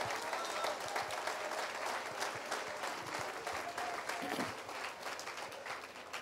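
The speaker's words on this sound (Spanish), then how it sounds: "palmas al Señor" A church congregation claps steadily for several seconds, a dense, continuous applause with a few faint voices underneath.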